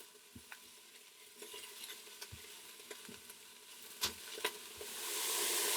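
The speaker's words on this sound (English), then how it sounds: "as the mushrooms begin to cook down" Mushrooms and chicken cook in a multicooker with a soft continuous sizzle, broken by scattered clicks and scrapes of a utensil stirring the pan, quiet and close, and a rising hiss near the end.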